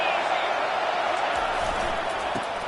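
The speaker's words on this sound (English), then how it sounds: "This crowd trying to make life miserable for this offense." A college football stadium crowd roars in a dense, sustained wash of noise, loud and constant throughout the moment.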